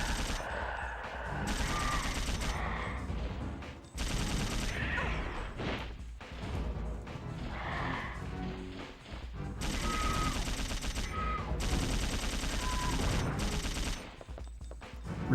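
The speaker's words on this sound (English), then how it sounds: "I never had dual SMGs in the original, but I have them now" Dual SMGs firing in Dino Crisis 2, dense continuous automatic fire with loud game action and effects layered on top, breaking off briefly at moments before resuming.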